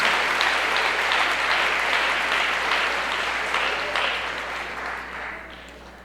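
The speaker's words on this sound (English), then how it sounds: "Give her a big round of applause." An audience gives a round of applause at a talk, a full, continuous roar of clapping that gradually fades toward the end.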